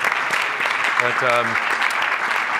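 Audience applause for a panel speaker at a national lawyers convention, a dense steady clapping from a large room, with a man briefly starting to speak over it.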